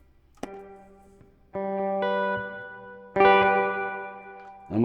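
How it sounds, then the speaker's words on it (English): Electric guitar run through a reverb pedal set to hall, with several struck chords and single notes ringing out into long, lingering tails; three louder attacks build in volume, and nobody speaks. "let's move on to Hall, and this should be a lot longer of a reverb"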